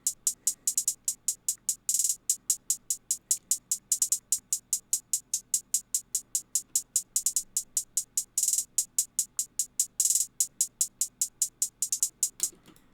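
A programmed hi-hat pattern with varied velocity plays in FL Studio for a classic beat, a fast, crisp, steady stream of bright ticks whose loudness rises and falls from hit to hit, heard alone.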